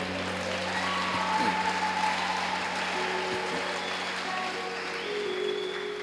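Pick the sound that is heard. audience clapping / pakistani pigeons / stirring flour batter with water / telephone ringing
audience clapping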